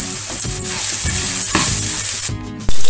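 Tender onion and the green part of a leek sizzling loudly in a pan, a dense, close, continuous crackle that cuts off abruptly near the end.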